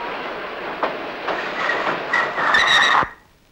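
A passenger train near Madurai rolls to a halt: rhythmic wheel clacks under a steady rumble, then shrill brake squeals rise before the noise drops away sharply as it stops.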